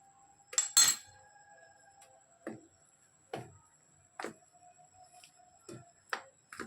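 Leftover rice paste is mixed with Maggi masala in a bowl, a spoon clinking sharply against the bowl in roughly eight scattered strokes with near silence between.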